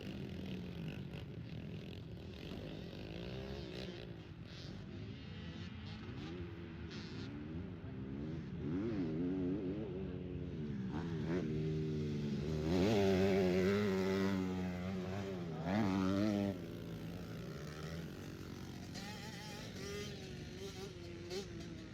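YZ250 two-stroke dirt bike ripping around a motocross track despite running poorly, its engine rising and falling in pitch at moderate distance, peaking in a louder revving pass midway, with people talking over it throughout.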